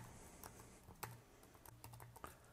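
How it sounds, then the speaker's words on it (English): Close, quiet typing on a computer keyboard, a few irregular key clicks and taps spread over a couple of seconds. "And we'll type in hatching"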